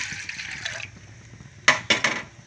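Water pours in a short steady stream, then a few quick splashes follow as more is tipped into a pot of washed moong dal.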